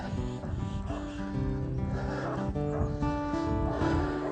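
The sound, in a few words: dogs barking while chasing a puma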